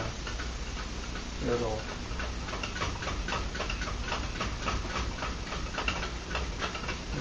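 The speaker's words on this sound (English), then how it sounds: "I would say run out of steam, but there's no steam involved since it is a Stirling cycle engine" A homemade tin can Stirling engine keeps up a steady, fast mechanical ticking as it runs down after its flame is blown out, with a person talking over it.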